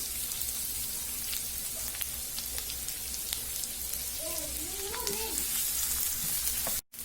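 Thinly sliced onions sizzle steadily in hot oil in a pan, a continuous close frying hiss with faint stirring clinks, ending abruptly.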